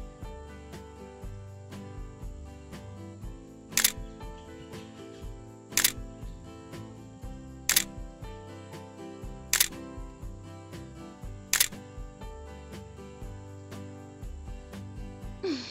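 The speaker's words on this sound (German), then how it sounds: "Dort machen sie ganz viele Fotos mit ihrer Kamera" A camera shutter in an animated Lego Friends episode, heard as five sharp clicks at steady intervals of about two seconds over continuous background music, as many photos are taken in the mountains.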